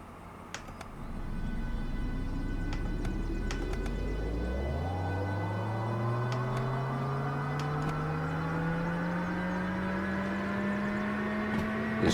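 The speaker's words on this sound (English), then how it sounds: "the sound you can hear is the air going all through the lines." Air rushes through the brake lines of a train in the Derail Valley railway game, a steady hiss beneath a rising mechanical whine that climbs sharply in pitch and then holds, with a few faint clicks.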